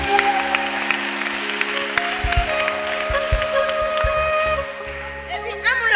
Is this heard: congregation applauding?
yes